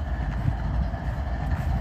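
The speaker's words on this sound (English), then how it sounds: "Pulling the coal train, comes out of Pennsylvania." A coal train out of Pennsylvania, hauled by AC locomotives, rumbles past at close range with a continuous heavy rolling drone and faint wheel clatter, and no talk.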